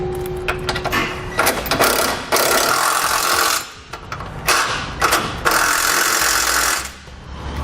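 Bolts on the frame rails of a 2010 GMC Acadia are tightened while a trailer hitch receiver is installed, giving close, loud bursts of ratcheting tool rattle in several runs separated by short pauses.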